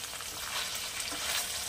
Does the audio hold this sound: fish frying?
yes